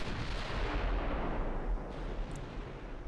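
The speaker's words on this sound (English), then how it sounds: "Still firing away with my 14-inch guns" Heavy 14-inch naval guns firing in the warship battle game Ultimate Admiral: Dreadnoughts, heard as a dense, continuous booming rumble of overlapping salvos that stays loud throughout without pause.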